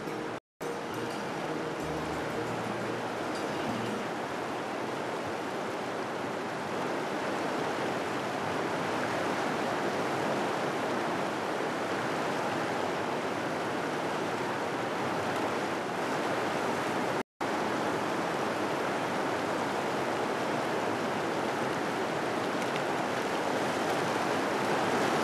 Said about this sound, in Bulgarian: съзнанието ми изцяло е пропито от шума на водата